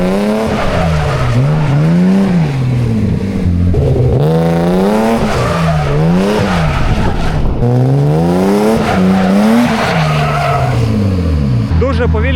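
A BMW E30 drifting under a novice driver, its engine revving in long rising and falling sweeps with sustained tire squeal throughout, close and loud, with voices talking over it.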